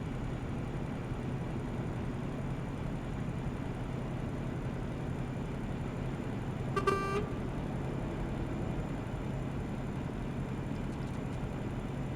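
A truck engine in Euro Truck Simulator 2 runs at full throttle, a steady, loud, low rumble that holds unchanged throughout, with a brief horn-like toot around the middle.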